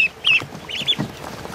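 Tiny goslings and ducklings peep in quick, high, close chirps from a hatching setup, a few overlapping calls over a soft background, with no talking.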